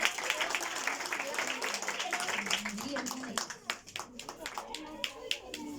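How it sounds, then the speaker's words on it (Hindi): Crowd of hands clapping at a school Christmas program, dense applause at first that thins into scattered individual claps, heard alongside talking and children's voices. "आपकी तालियों में तालियां तो बजाएं"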